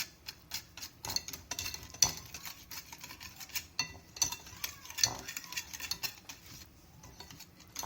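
Eggless chocolate cake batter is stirred in a bowl with a utensil, making quick, irregular clicks and scrapes. The mixing is fairly quiet and close, with occasional sharper taps against the bowl and no talking.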